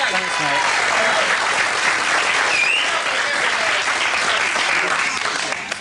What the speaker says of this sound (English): Give him a big round of applause. Let's hear it for Del Boy.